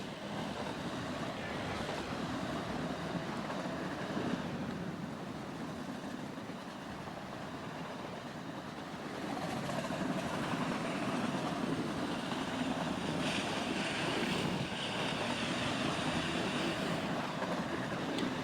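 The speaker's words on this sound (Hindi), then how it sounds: "और जो इंजन की आवाज़ है दोस्त, हमें वो अच्छी नहीं लगती है बिल्कुल भी" Diesel locomotive engine from an Indian train simulator game, a steady rumbling drone with broadband hum that holds continuously, swelling slightly louder in the second half, with no talk over it.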